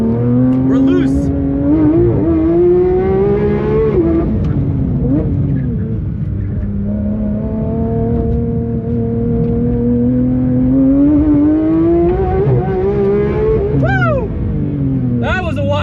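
A Porsche 992 GT3 RS at full attack on a racetrack lap, its engine revving loud and close, rising and falling through gears with brief tire squeal, while a driver talks excitedly over it throughout.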